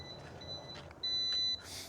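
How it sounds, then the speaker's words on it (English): A drone remote controller beeps repeatedly while waiting to connect. The beeps are thin and high, and one is held longer than the rest, over faint background hiss. "it's gonna annoyingly beep like this until it connects with that drone"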